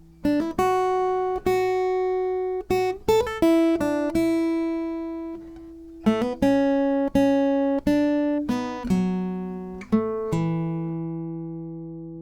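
A plucked guitar plays a slow melody of single ringing notes, each sustaining before the next, with no voices.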